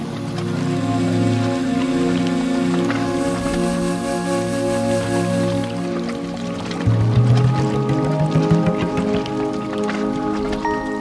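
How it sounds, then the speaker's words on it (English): Steady rushing water from a tall waterfall at Cherrapunji in Meghalaya, a loud continuous roar that shifts partway through to a busier, splashier texture, with no clear talking. "And this is the waterfall."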